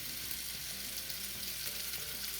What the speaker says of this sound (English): now we're going to brown the meat in a frying pan